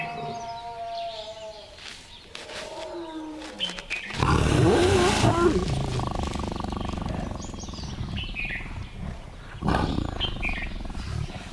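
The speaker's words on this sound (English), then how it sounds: "Mating may continue off and on for several days, but it only lasts a few seconds at a time." Tigers roar and growl during mating, a loud burst that breaks in partway through and rolls on in rough waves, with a second surge near the end.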